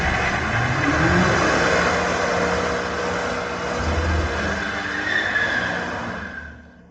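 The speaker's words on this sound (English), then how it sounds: "Just a touch of the gas and a cloud of smoke follows." Hard acceleration from a 2026 BMW M5 Touring with 727 horsepower, a dense, loud engine roar with possible tyre squeal sustained for about six seconds before fading away at the end.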